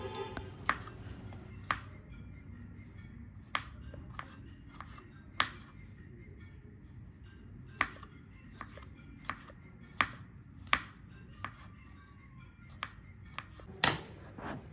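A knife chops mushrooms on a cutting board in a kitchen, making sharp, irregular taps, some single and some in quick pairs, against a quiet background with no talking.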